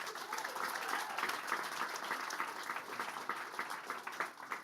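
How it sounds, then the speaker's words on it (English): A crowd at a tech demo day at Google headquarters claps continuously, a thick, even wash of applause throughout with no pauses. "Let's give all of them a round of applause also."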